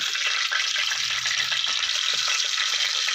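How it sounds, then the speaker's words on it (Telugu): Chillies fry in hot oil in a pan for a potato curry, a dense, steady sizzle and crackle up close, loud and unbroken throughout with no talking. "కొద్దిగా ఇలా ఆయిల్ హీట్ ఎక్కిన తర్వాత ఫస్ట్ అయితే చిల్లీస్ని వేసేసుకుందాం."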